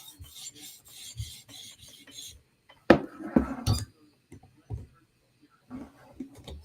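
A Chris Reeve Inkosi knife blade is drawn across TSProf Kadet sharpening stones, giving close, intermittent rasping strokes with scraping and faint metallic clinks between quiet pauses.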